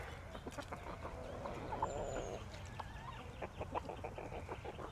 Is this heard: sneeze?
no